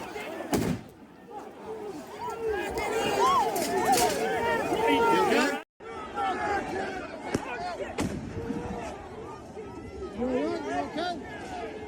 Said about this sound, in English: Shooting off smoke bombs.